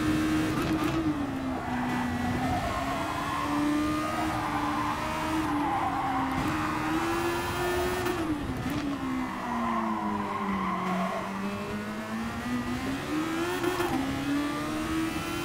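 Race car tires skid and squeal through oversteer in Gran Turismo Sport, a steady wavering screech over a continuous high-revving engine drone, loud and close throughout.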